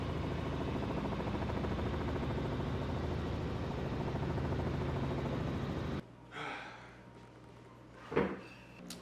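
Helicopter passing near a 40th-floor apartment, a loud continuous rotor rumble that cuts off abruptly partway, followed by quieter scattered indoor bumps and rustles.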